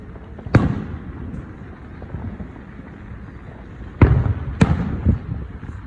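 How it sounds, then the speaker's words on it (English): A neighbors' fireworks show bursting nearby, with three sharp booming explosions spaced across a few seconds over a low crackling background. "now they're like shooting 2 fireworks per second"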